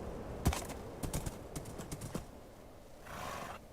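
Horse hooves clip-clop in a video game, a fairly quiet, even run of about a dozen light knocks over a few seconds, followed by a soft breathy rush at the end, with no speech.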